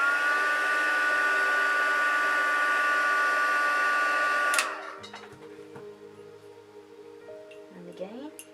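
A heat tool used for heat setting blows hot air in a loud steady whine for several seconds, then cuts off abruptly, leaving quieter room sounds and faint rustling.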